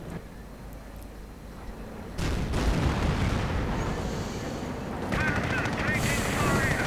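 Tank battle with Panther tanks in a strategy video game, dense rumbling combat noise of cannon and machine-gun fire building into a louder steady din, with a voice talking over it.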